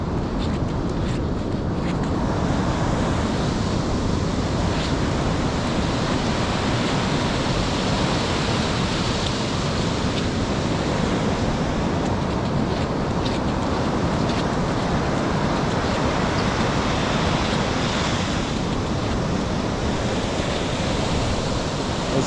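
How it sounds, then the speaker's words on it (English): Ocean waves wash up on a San Diego beach during a grunion run, a loud, steady rushing surf roar that swells and recedes throughout, close and with no talking. "as the water rushes back."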